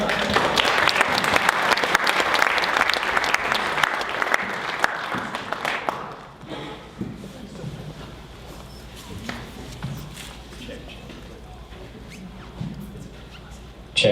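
Audience applause at a fireside chat event, loud sustained clapping from a crowd for about six seconds that then cuts off, leaving room noise, scattered small sounds and murmuring voices.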